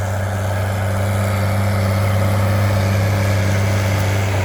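A New Holland tractor engine runs at a steady, lively pace close by, a loud continuous diesel drone with a strong low hum and no pauses.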